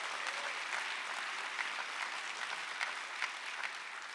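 An audience applauds at a community justice action assembly, a continuous, even wash of clapping from a large crowd heard at a moderate distance, fairly quiet and without talk.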